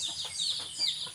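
A caged rooster gives short, faint, high clucking calls in quick succession, heard at a distance on a farm with coconut trees.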